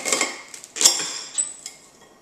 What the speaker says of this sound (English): We're going to cut the bottom of the stalk off because that's kind of tough.